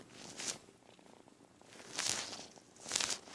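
A kitten purrs softly and closely in a quiet indoor room, the low rumble swelling in three slow breaths with faint rustling between them.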